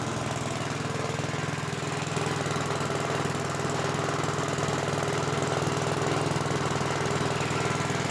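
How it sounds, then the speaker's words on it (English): A 1965 Gravely walk-behind tractor engine drones loud and steady with a rapid mechanical rattle. Its gears grind as it is forced into gear, the noise continuous throughout without talk. "I can't get it into gear. It grinds."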